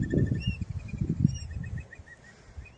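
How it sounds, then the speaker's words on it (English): Outdoors near the Atlantic City Convention Center, small birds give a series of short, thin chirps at a moderate distance, repeating irregularly over a low background rumble. "You hear those birds?"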